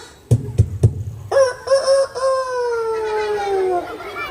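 Rooster crowing in an early-morning setting, a long drawn-out call that rises and then trails off, loud and fairly close, after a few sharp knocks at the start.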